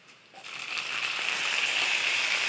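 Cooked beans with bay leaves and garlic tossed into a hot pan, setting off a steady broadband sizzle that swells after a brief soft clatter and holds loud and even.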